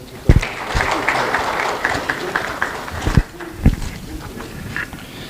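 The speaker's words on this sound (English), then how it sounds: "a round of applause" An audience at an AI summit applauds in a steady wash of clapping that lasts about five seconds, with a few sharper bursts standing out.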